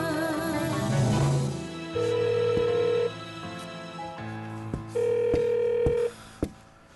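A telephone rings unanswered in repeated bursts, each electronic ring tone sustained about a second, with short pauses between them and a brief musical passage at the start, no speech.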